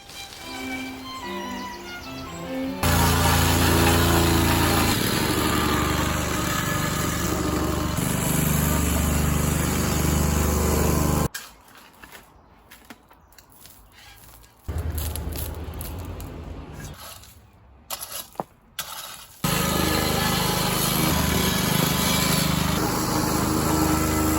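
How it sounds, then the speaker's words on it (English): Petrol plate compactor working a hardcore slab base for a DIY workshop, a loud continuous engine drone with a vibrating thump, cutting out for several seconds midway before resuming at full level. "I've been whacking with the old plate whacker, and it's all very, very compacted and very, very flat now"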